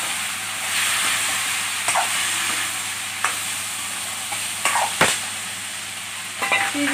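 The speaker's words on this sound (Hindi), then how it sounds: "तो इसमें डालेंगे पहले टमाटर डालेंगे बारीक कटे हुए" Finely chopped tomatoes hit a hot frying pan for banana kofta curry, giving a steady broad sizzle with a few sharp stirring clinks and scrapes of the spoon throughout.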